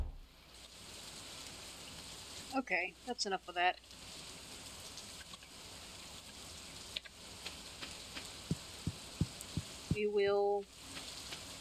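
Rain in the Stardew Valley video game, a continuous soft sizzling patter running steadily throughout, with short bursts of speech and scattered light game clicks over it.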